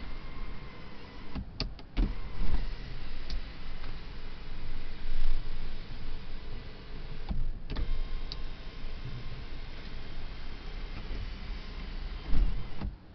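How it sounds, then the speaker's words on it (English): The tilt-and-slide electric sunroof of a Subaru XV opens inside the car with a quiet, continuous motor whir, punctuated by a few sharp clicks near the start and end. "the sunroof is actually a tilt and slide electric sunroof"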